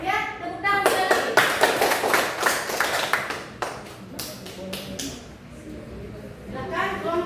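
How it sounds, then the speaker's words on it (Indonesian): A classroom group of students claps together once, a dense scatter of hand claps bunching into a short burst, with voices talking before and after. "Ya, tepuk tangan sekali."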